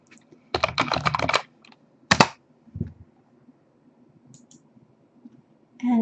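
Computer keyboard typing during a Fallout 4 retexture session, a quick burst of clicky keystrokes followed by a few isolated taps and clicks, close and clear in a quiet room.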